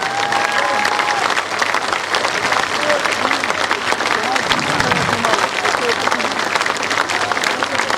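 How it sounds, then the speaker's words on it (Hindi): A crowd at a Jan Suraaj Party political rally in Bihar applauds loudly and continuously for the full stretch, a dense wash of clapping with a voice carrying over it. "जोर से ताली बजाइए।"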